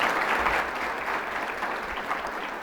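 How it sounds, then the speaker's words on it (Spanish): Audience applauding a lecturer after a university conference talk on higher education, a brief burst of steady clapping at moderate volume. "un aplauso para él"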